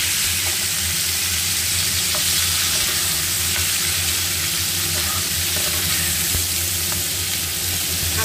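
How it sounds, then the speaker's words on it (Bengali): Prawns frying in hot oil in a home kitchen pan, a steady dense sizzle that runs unbroken and loud throughout with occasional stirring, no talk. "এবার আমি একই তেলে এখানে দিয়ে দেব চিংড়ি মাছটা।"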